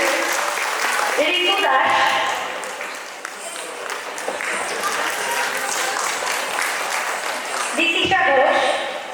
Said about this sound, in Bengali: সবাই একটু করতালি দিয়ে ওদেরকে উৎসাহিত করবেন